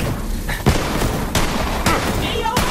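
Gunfire from a newly picked-up gun in the video game Borderlands 3: a few loud, separate booming shots in quick succession, close and up front.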